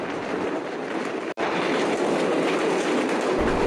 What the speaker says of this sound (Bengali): আমাদের ট্রেনটি ছুটে চলেছে পাগলা ঘোড়ার মতো হর্স পাওয়ারে, টকবক টকবক করে সামনের দিকে এগোচ্ছে।